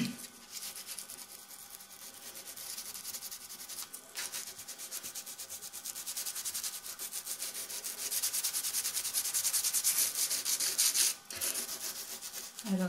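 Emery paper rubbed over the edges of a photograph to wear and distress the print, a steady dry scratchy abrasion that runs on without pause for several seconds, grows louder toward the end, and briefly stops once.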